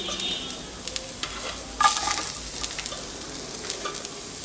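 Onion and garlic slices fry in a pan with a soft, steady sizzle and brief stirring scrapes, one louder stir burst midway, heard close with no voices.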